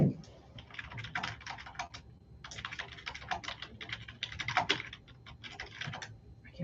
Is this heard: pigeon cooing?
no